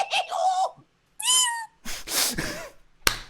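A cat gives several loud, close meows in a row, separated by short pauses and ending in a sharp noisy burst.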